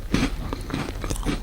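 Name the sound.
chewing crunchy jalebis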